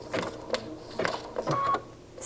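A home sewing machine runs a blanket stitch through fabric in short, quiet bursts of whirring and clicking, stopping and starting several times at close range.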